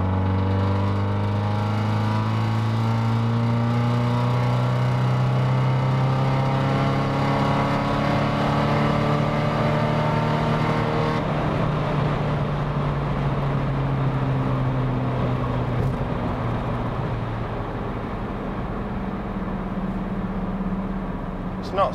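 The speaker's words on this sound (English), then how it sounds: "pick it down a gear and let it have it" A tuned 1.6 TDI diesel car making about 263 bhp pulls hard through the gears, its engine note rising steadily over a long pull and then dropping at a shift before climbing again, loud and continuous throughout.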